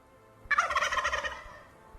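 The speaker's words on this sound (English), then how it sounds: "That's what turkeys sound like." A turkey gobble sound effect plays once during a gaming livestream: a single loud, rapid, warbling burst lasting under a second, then quiet.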